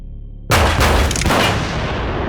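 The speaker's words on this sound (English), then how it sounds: "Did you hear those gunshots?" A sudden loud blast erupts and rumbles on, a heavy gunfire-like boom with a long noisy tail.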